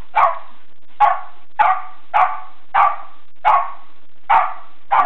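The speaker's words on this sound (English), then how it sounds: "He barks at this damn rug." A silky terrier barks at an animal-skin rug indoors, giving eight sharp, evenly spaced barks close to the listener with short silences between them.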